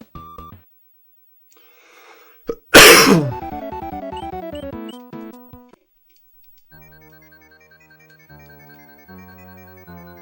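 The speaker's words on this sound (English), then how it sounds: "That was a cough" A single sharp, loud cough bursts out after a quiet moment, followed by a cluster of ticking, chiming tones from a Super Mario World romhack.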